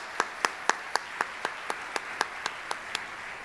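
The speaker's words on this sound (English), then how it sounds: "So let's do another round of applause" Sparse, scattered hand claps for an education awards committee at a school district Golden Apple ceremony, about a dozen sharp separate claps at a steady pace, fairly faint and distant in a large room.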